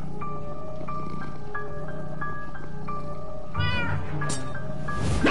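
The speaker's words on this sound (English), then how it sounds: "Bad kitty, stop it!" A cat in the video game Minecraft Story Mode meows repeatedly in a steady series of tonal cries, loud and close, with a harsher caterwaul toward the end over a game background hum.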